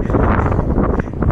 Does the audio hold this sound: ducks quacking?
no